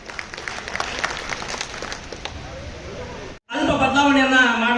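Audience clapping rises in a gathering of the Karnataka Mulla Association honouring the KMA, moderate and continuous for about three seconds, then cut off and replaced by a man's amplified speech.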